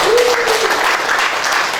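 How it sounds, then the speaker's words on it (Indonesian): A seated audience at a corporate speech claps briefly in a quick burst of applause that stays fairly even before the speaker resumes. "Tepuk tangan dulu untuk Miora."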